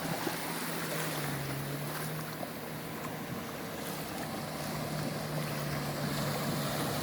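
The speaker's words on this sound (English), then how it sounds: "My personal water taxi's come to pick me up." A water taxi boat approaches across open water at Double Island Point, its distant motor humming steadily under constant wind and surf noise.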